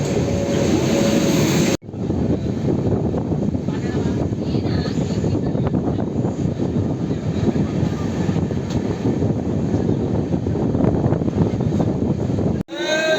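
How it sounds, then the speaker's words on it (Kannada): Grand Trunk Express pulling into Sevagram station, a steady broad rumble of rolling train noise with wind buffeting the microphone, loud and continuous for over ten seconds without speech. "ಸೇವಾಗ್ರಾಮ್ಗೆ ನಮ್ಮ ಟ್ರೈನ್ ಬಂದಿದೆ."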